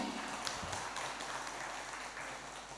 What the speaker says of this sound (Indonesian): Beri tepuk tangan yang meriah kepada MC kita pada pagi hari ini.